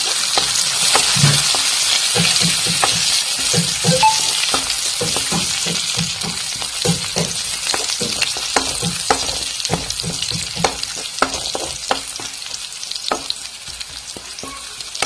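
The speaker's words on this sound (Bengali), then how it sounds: "আমি প্রথমে দিলাম রসুন দিয়ে একটু ভাজিয়ে নিয়ে" Garlic frying in hot oil in a pan, a continuous loud crackling sizzle with frequent small pops and light stirring clicks throughout, no talking.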